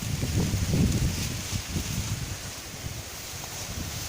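Strong wind gusts blowing through a ginger plot, a steady broadband rushing roar with low buffeting rumble that peaks early and then holds at a slightly lower level, with no talk.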